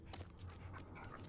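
A dog pants in the Until Dawn video game, a soft rapid breathy rhythm that stays faint and low throughout with no talking.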